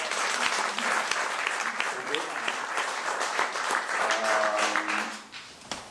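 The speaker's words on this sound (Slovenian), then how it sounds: "Tako da res tako je aplavz" Audience applause at a book presentation, many hands clapping in a dense, even patter that holds strong for several seconds before tapering off, with a voice speaking over it.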